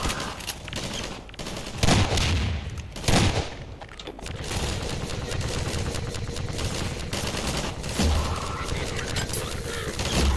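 Rapid bursts of pistol fire in Half-Life 2, sharp repeated shots in clusters over a busy background of game noise and mechanical clatter, loud and close.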